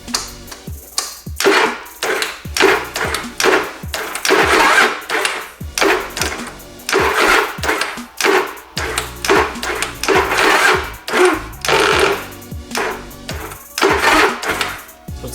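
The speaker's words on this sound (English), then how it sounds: "So it still has the starter issue with the grinding." Starter on a Yamaha Virago XV920 motorcycle grinds in repeated bursts as the long-unused engine cranks and tries to catch, with short pauses between loud, rhythmic cranking attempts.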